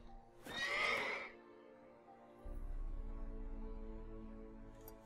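Roach, the horse in The Witcher 3, lets out a single clear neigh, close and prominent, followed by a low rumbling game ambience and faint hoof movement, with no talking.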